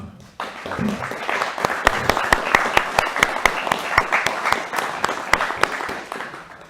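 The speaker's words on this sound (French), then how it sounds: "Je pense même qu'on peut l'applaudir." A crowd claps steadily for several seconds, sharp individual claps standing out over a dense wash of applause.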